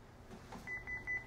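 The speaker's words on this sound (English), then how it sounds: "beeps three times, and the serial number is locked in" A Honeywell alarm panel emits three short, clear electronic beeps in quick succession while learning a 5820L wireless door transmitter, heard alone over quiet room noise.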